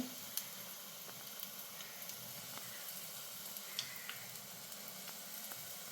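Pakkavada batter frying in hot oil, a steady soft sizzle with faint crackles and tiny pops throughout, quiet and with no talking.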